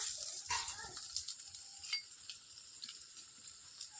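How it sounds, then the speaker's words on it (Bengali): Ginger paste sizzles as it is added to onion paste frying in a pan for a restaurant-style potato and cauliflower curry, a soft steady hiss with light stirring scrapes near the start. "এর মধ্যে দিয়ে দেবো আদা বাটা"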